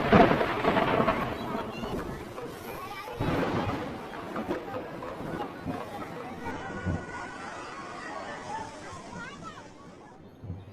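Heavy rain pours down with deep rumbling thunder over Kedarnath valley in June 2013. A loud crash opens the clip, and another surge follows a few seconds later over a dense, steady wash of rain.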